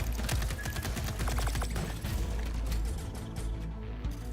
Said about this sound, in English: Guns sound really good. Sound really punchy.